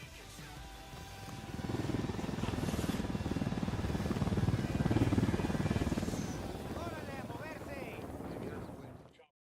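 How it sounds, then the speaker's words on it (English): A helicopter in the video game Ghost Recon Wildlands whirs with a low rotor drone that swells, holds, then fades, with a voice briefly audible near the end. "Let's take your helicopter."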